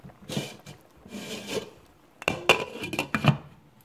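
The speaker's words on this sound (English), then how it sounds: "I'm going to put the lid on it" Metal kitchenware scrapes and rubs, then a few sharp clinks and clatters as a lid goes onto a pot of simmering Thai-style butternut squash curry soup, close and brief with no talking.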